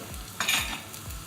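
Garlic sizzles in a hot frying pan with a steady crackling hiss, briefly louder as it is stirred, with no talk over it.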